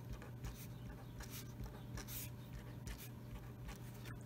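A pen or marker drawing and writing on paper, working out a math word problem about cutting items into slices; soft scratchy strokes come in short bursts over a steady low hum, with no talking.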